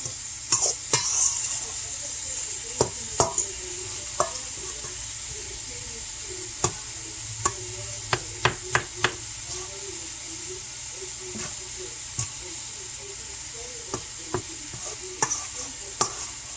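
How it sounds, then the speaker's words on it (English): Onions and garlic frying in a pan, a constant moderate sizzle broken by sharp, repeated taps and scrapes of a spoon stirring at irregular intervals. "we're going to wait until these onions and garlic are done too"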